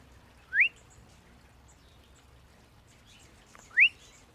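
Rufous hummingbird in a backyard giving two brief, sharp rising chirps roughly three seconds apart, each clear and distinct over a quiet outdoor background.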